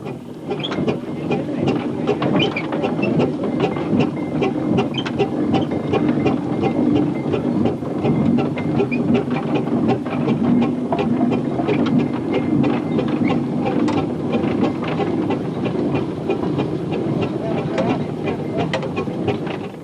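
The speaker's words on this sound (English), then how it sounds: "Now we got a Roby traction engine." A Robey single-cylinder steam traction engine runs steadily nearby, towing a small portable engine, giving a continuous loud chuffing mechanical rumble with rattling clatter throughout.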